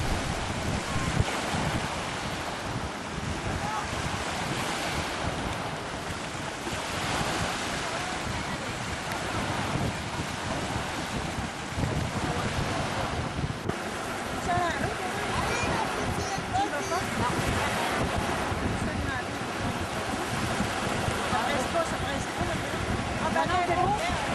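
Sea waves and wind on a shore, a steady broadband wash of surf and gusting air that stays loud and even throughout.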